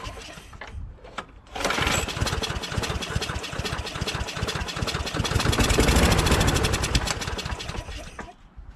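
A John Deere JS26 self-propelled bagger lawnmower engine with a carburetor fault is pulled over. It catches with a loud, close, rattling run for several seconds, then sputters out and dies.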